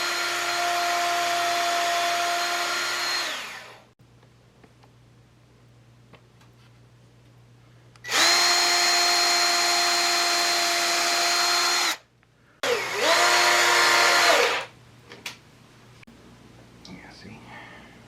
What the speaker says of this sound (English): Even though we technically don't need to pre-drill, but that wood's going to split if I don't.